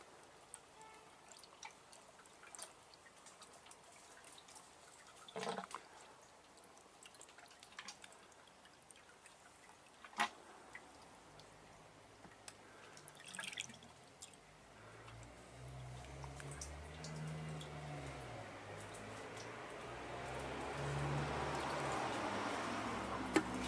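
Coolant poured into a car radiator: a faint, quiet trickle with occasional drips, swelling into a louder steady pour toward the end.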